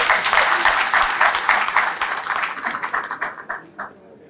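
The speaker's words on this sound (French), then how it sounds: "Applaudissons pour eux." A crowd applauds at a political speech in Dassa, a dense burst of clapping that starts strong and gradually thins out and fades over a few seconds.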